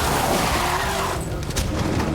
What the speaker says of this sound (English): the wet road caused the vehicle to skid out of control